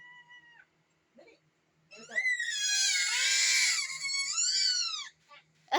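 A cat lets out a long, loud, wavering yowl after a few shorter meows, close by, with a person speaking quietly between the cries.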